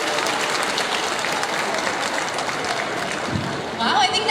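A crowd applauds warmly at a beauty pageant press presentation, Binibining Cebu 2017, with continuous dense clapping throughout and a voice starting to speak over it at the close.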